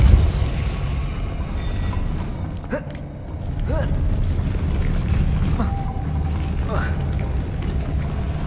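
Depulso force spell cast in the video game Hogwarts Legacy, a low rumbling whoosh with creaking, mechanical shifts and thuds amid a busy game soundscape, with a voice speaking briefly.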